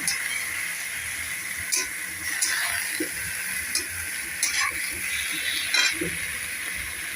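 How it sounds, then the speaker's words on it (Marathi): Amaranth greens sauté in oil with a soft, steady sizzling hiss, broken by a few scattered spatula clicks and scrapes. "आता ह्याला छान असं परतून घेऊया तेलावरती"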